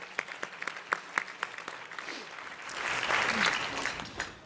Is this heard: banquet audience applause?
yes